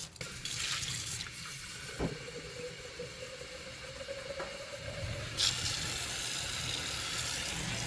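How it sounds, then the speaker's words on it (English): Water runs from a tap into canning jars being filled about halfway for canning leafy greens, a steady close rush with a rising tone as a jar fills, a few clinks and a brighter splash partway through. "I need to fill each of the jars about halfway up"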